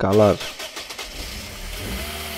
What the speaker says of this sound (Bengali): দেখেন ইঞ্জিনের যে সাউন্ড